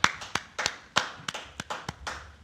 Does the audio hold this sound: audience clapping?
yes